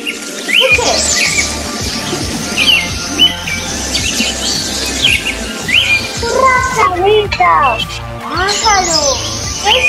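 Bird calls, chirps and squawks played for a children's guessing game come in repeated short bursts over a steady rhythmic backing, with voices talking across them.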